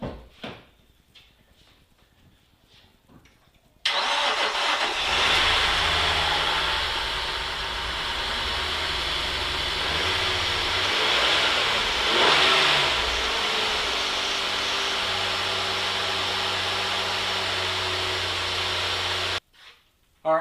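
Flood-damaged 2013 Nissan Altima 3.5 SL engine cranks and catches after a quiet stretch, then runs loudly with a steady rev and a surge midway before cutting off abruptly near the end.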